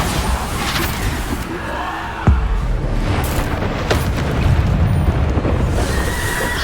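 A Bombarda spell explodes in the Hogwarts Legacy video game. A sudden blast cuts through a dense, rumbling din of fighting, and the loud, noisy background continues steadily around it.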